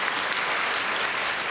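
Sustained audience applause from a studio crowd on a night-time talk show, dense and steady clapping filling the whole moment at even loudness with no voices over it.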